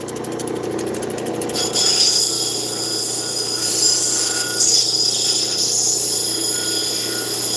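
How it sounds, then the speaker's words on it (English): Turquoise held against a spinning 180 grit metal grinding wheel, giving a loud, steady, close whine and hiss with a sharp, chattering edge at the start and a continuous motor hum underneath, without talk. "This is the 180 grit. It is a metal wheel. You can see dust is coming up too."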